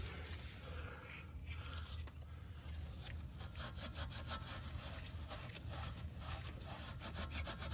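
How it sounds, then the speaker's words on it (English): A Scotch-Brite pad is worked in and out of the tie rod hole on an Audi A8L D3, a steady close-up scraping rub that continues throughout in a quick back-and-forth rhythm, with no talking. "I'm just running some piece of Scotch-Brite up and down, in and out of there"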